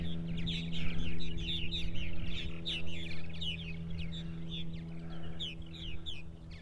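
A purple martin colony chatters continuously in summer, many birds giving overlapping chirps and gurgling calls at moderate distance over a steady low hum, with no talk.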